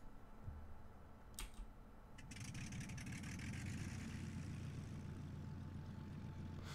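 A War Thunder game aircraft engine starting up: a few clicks, then a whine that builds into a steady droning roar, fairly quiet overall.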